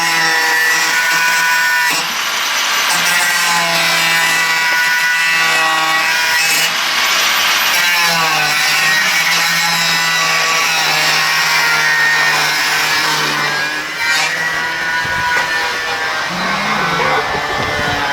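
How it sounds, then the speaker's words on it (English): Welded metal framework of a van's rear bench seat being cut out with a power tool, a loud continuous grinding, rasping cut that runs throughout with slight shifts in pitch as the blade bites, close and unbroken. "This is all welded, so we have to cut it out."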